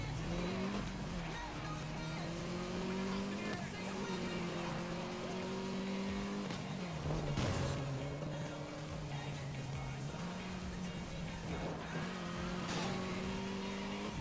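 A car racing in Need for Speed Most Wanted, engine droning steadily through repeated gear shifts and revs, with occasional tire squeal and brief bursts, loud and continuous from start to finish.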